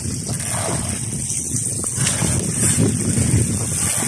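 Strong wind roars and buffets the microphone continuously, with a broad low rumble that swells slightly toward the end.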